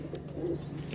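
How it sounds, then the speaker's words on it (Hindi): A highflyer pigeon at a breeder's loft in the UAE gives a soft, low coo, close and brief, over faint background noise. "बहुत शानदार कबूतर है जी"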